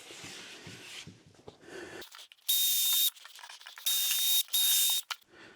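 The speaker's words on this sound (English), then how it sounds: "add some additional screws out on the end here" Screws are driven into a wooden jig with a power driver in three loud, steady whirring bursts, the last two close together, with quieter handling clatter before and after.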